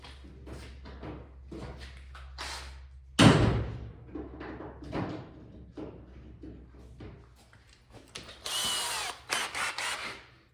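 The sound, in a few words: drill drilling out metal rivets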